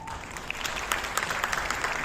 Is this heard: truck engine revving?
no